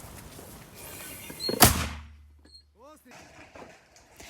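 A single loud, booming mortar shot fires nearby, followed by a lingering rumble and a whistling tail as the round flies off.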